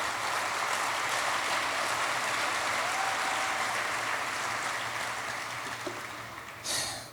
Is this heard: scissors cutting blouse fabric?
no